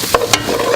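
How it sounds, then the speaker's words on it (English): Spoon stirring all-purpose flour into a sizzling sauce in a pan to make a roux, two quick loud scrapes over a constant close frying hiss. "So basically I'm adding some all-purpose flour and we're just going to mix that around."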